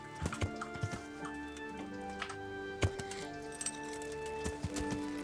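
Horse hooves clip-clop at a walk in the video game Kingdom Come: Deliverance, a loose, uneven rhythm of moderate thuds with small clinks of tack, fairly close and without talk.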